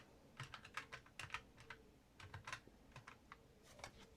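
Quiet, close keystrokes on a computer keyboard while entering code, tapped in short uneven bursts with brief pauses between them and no talk.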